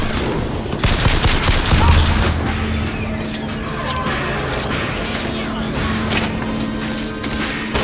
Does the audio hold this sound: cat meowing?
no